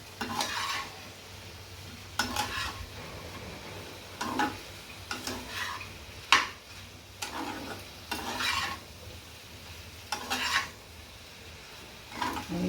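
Paneer and mushrooms fry in oil in a pan while a utensil stirs them, giving a faint low sizzle broken by repeated scraping, clattering strokes every second or so, with no talking.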